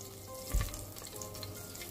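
Cumin seeds frying in hot oil in a pot, a faint, steady sizzle with a brief louder crackle near the start, continuing quietly throughout.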